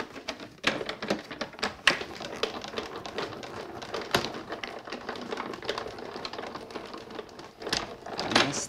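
Die-cutting machine running paper through with two dies stacked together, giving a steady close clatter of dense ticking and rattling with a few louder knocks along the way.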